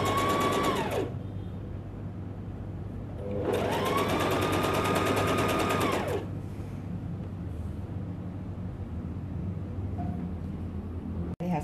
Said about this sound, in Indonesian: segitu kita jahit. Terusin sampai ke bawah setengah senti semua